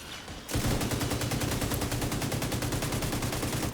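Automatic weapon fire in The Division 2 starts abruptly after a brief lull and hammers on in a steady, evenly spaced rapid stream of loud, close shots with no voices.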